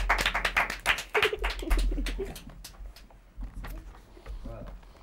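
Audience clapping for Sandra, the first-prize winner at a contest; a burst of claps in the first seconds, then scattered claps fading beneath a host speaking over them.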